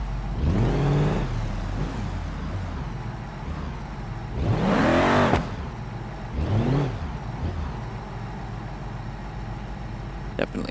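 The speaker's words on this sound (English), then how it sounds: "Definitely something of a modded engine." Modded car engine in the BeamNG driving game revving up in three separate bursts that rise and fall in pitch, loud against a steady low engine hum, with no talk over it.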